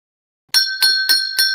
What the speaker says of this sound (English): I was a little late on the draw with the bell